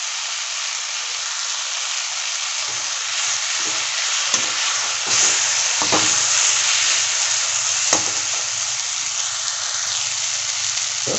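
Tomatoes and a handful of mint sizzle and fry steadily in a pan for Tamil-style vada curry, with a continuous hiss and occasional stirring clicks and scrapes, close and fairly loud.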